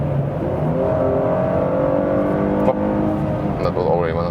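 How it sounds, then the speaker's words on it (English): Mercedes E400 coupé, 2017-2018 AMG-Line, pulling hard on the Autobahn as the automatic gearbox kicks down, a steady loud engine drone with rising harmonics over road and wind noise. "So I can show again the acceleration, or if I let the automatic do the downshifting, for example, from 100 to 120,"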